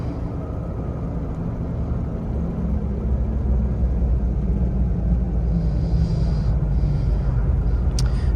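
A Jeep Comanche engine idles and rumbles steadily while the truck is parked, a loud, constant low drone filling the whole stretch with a faint brief click near the end.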